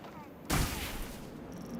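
A dust explosion effect in the game Planet Coaster 2 bursts with a sudden loud whoomph, then settles into a broad rushing hiss that lingers and fades over a second or so.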